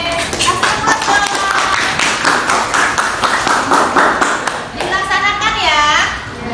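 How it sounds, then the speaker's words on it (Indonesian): A school class of children clapping together on cue, a dense burst of hand claps filling most of the moment, with children's voices and chatter mixed in and a teacher talking near the end. "Kasih aplaus dong."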